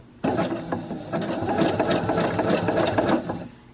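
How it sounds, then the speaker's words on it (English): A sewing machine sewing on a button runs in a steady, fast mechanical rattle for a few seconds, close and loud, then stops. "I'm putting my very first button on with my sewing machine"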